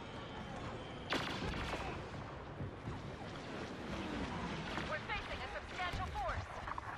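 Turret gunfire in a video game, a dense, continuous stream of rapid shots and explosions in a busy battle soundscape, fairly loud throughout.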